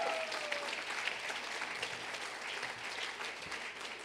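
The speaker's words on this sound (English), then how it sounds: "That's an applause line." Audience applause at a fall executive briefing, a fairly soft, steady wash of many hands clapping from a hall full of listeners, sustained without a break.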